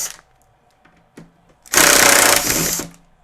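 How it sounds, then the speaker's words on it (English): A screwdriver, likely powered, whirs for about a second as screws come out of a JBL PSW-D110 subwoofer that has a loud buzz/hum fault. It follows a few faint clicks and taps on a small workbench and sounds loud and close. "So let's get the screws out of this guy."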